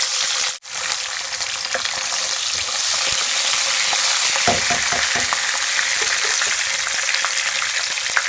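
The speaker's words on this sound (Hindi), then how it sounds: "सबसे पहले कढ़ाई में ऑयल डालें। जब ऑयल गर्म हो जाए तो उसमें लहसुन फ्राई करें" Garlic frying in hot oil in a karahi while cooking chicken karahi, a steady close sizzle and crackle running throughout with scattered small pops and stirring taps, no voices.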